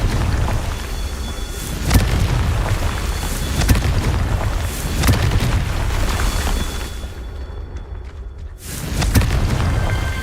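Magic fire spell explosion from the game Hogwarts Legacy, made of deep booming bursts over a constant rumbling game soundscape. Several heavy thumps land a couple of seconds apart, followed by a brief hush and another blast.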